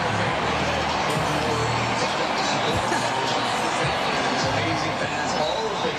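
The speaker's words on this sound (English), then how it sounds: "Can we listen in and listen to some of the crowd for a second?" A dense, loud crowd roars and cheers continuously at the Dodgers World Series championship victory parade in downtown Los Angeles, a steady wall of voices and shouts with no single speaker standing out.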